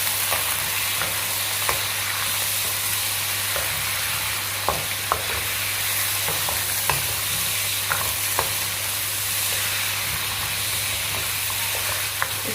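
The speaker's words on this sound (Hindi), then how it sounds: "इसी ऑयल में मैं चिकन डालूंगी" Chicken pieces frying in hot oil, a steady, fairly loud sizzle and hiss with scattered sharp clicks of stirring throughout, no talking.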